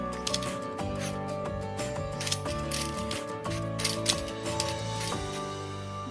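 Raw mango being peeled, a close, repeated scraping and rasping in a steady rhythm of short strokes, moderately quiet and without talk.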